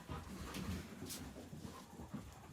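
Dog whimpering softly among a household of dogs and cats, faint thin whines repeating over a low background rustle, fairly close but quiet.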